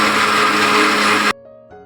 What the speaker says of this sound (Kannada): ಇವಾಗ ಇದನ್ನು ನಾನು ಮಿಕ್ಸಿಗೆ ಹಾಕ್ಕೊಳ್ಳೋಂಥದ್ದು